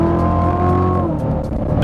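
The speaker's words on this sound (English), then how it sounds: "The reason I braked so hard was to kind of figure out how the car would react under braking" A Corvette C7 brakes hard on a back road. The loud engine note drops in pitch as the car slows sharply, with road and tyre noise close by.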